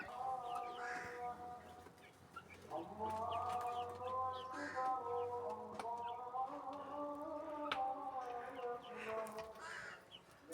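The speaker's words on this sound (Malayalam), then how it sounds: "ശല്യം പിടിച്ച കോഴികൾ" Hens cluck and squawk in a steady, close chorus while being fed and pecking at one another, with overlapping calls throughout and no talking.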